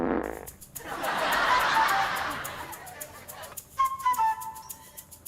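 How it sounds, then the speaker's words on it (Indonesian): A prank remote gives off a long, raspy fart blast inside a car, followed by a few short squeaky chirps, fairly close and moderately loud. "ada remote yang kalau dipencet ada bunyi pret ya"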